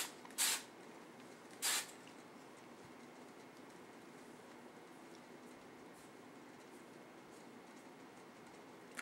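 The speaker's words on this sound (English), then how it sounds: "I'll just take some hairspray, this is Tresemme, and I'll just spray it a little bit without spraying my face." Tresemme hairspray hisses from an aerosol can in two short bursts close by, the first near the start and the second a second later, then only faint quiet room noise.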